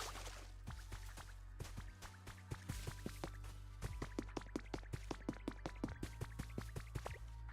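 Watering a flower bed in the Pokémon Pokopia video game, heard as a steady run of small water drips and splashes over a low constant hum, the drops growing denser and more regular toward the end.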